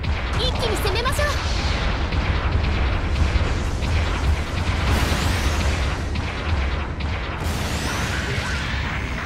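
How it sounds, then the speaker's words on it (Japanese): Support artillery explosions in the video game Gundam Battle Operation 2 form a dense, continuous roar of blasts and rumbling, with sharper bursts and whooshing swells rising over a loud, sustained battle din. "支援砲撃の効果あり、一気に攻めましょう"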